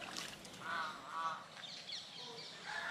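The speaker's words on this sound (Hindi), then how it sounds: "और 2 बत्तख भी हैं इनके यहाँ परिसर में" Two ducks in the grounds of a Buddhist monastery give faint, soft honking quacks in a few short calls over quiet outdoor background.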